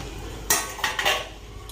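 A cooking pot of rice set down on a kitchen stove, a sharp metallic clank followed by two or three lighter clinks of metal against the burner, close and brief.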